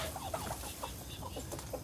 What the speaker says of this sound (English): he's a beautiful, beautiful rooster